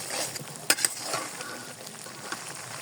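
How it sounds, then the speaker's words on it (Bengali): Spices being sautéed and stirred in hot oil for a sweet-sour-spicy raw mango pickle with turmeric and salt, a soft steady sizzle with a couple of sharp clinks from the spoon against the pan near the start. "আমি ভালোভাবে মশলাটা কষিয়ে নেব"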